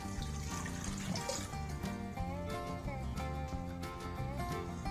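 Water pours steadily onto sugar in a container, a continuous trickling stream with some soft clinks in the background.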